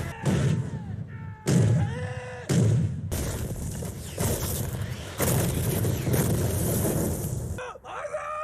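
Cannon blasts boom one after another in a loud, chaotic film battle scene from The Last Samurai, the heavy rumbling bursts mixed with shouted cries.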